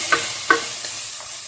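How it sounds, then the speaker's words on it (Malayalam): Toor dal (pigeon peas) being sautéed in a pan, with a soft dry sizzle and two sharp scraping stirs close by. "നിങ്ങളുടെ തുവര പയർ ഞാൻ ഇതിലേക്കൊന്ന് വഴറ്റിയെടുക്കുകയാണ്"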